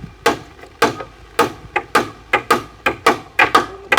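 About a dozen sharp, loud hammer blows drive nails into a zinc roof sheet, each strike ringing briefly in a steady irregular rhythm, with no talking.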